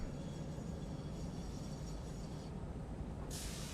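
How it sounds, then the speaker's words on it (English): A train rolls past in the Satisfactory factory-building game, a steady broadband rumble that holds at the same level throughout, with a brighter hissing layer rising near the end. "I hear a train."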